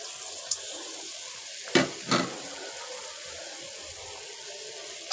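Bitter gourd tipped into a pan of frying potatoes, a quiet hiss of sizzling with two sharp bursts as the gourd hits the hot oil, plus a couple of small clicks, no talking.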